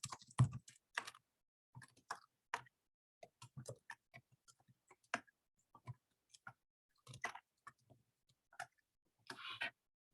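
Quiet, sparse keystrokes tap out a short caption on a computer keyboard, sounding as irregular clicks in small bursts separated by pauses, close and alone without talk.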